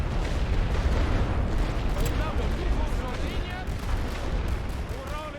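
Artillery fire in a WWI Western Front strategy game, with continuous heavy booms and crackling blasts forming a dense, rumbling barrage that fades slightly toward the end; a voice is heard talking over it.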